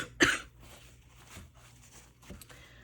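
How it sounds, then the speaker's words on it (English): A single sharp cough close to the microphone during a stamp and die crafting session, followed by a couple of fainter throat sounds over a quiet room background. "I don't want to keep coughing in your ear."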